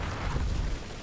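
Cannons aboard a sailing ship fire a broadside in a pirate naval battle game, a continuous low rumbling roar of overlapping booms sustained loudly for the whole second.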